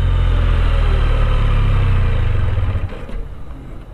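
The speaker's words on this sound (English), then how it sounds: "Rev it up, kill the engine." A Can-Am Spyder engine runs loud and close with a steady rumbling tone, then is cut by the kill switch while the machine keeps rolling, the sound dying away over the last second.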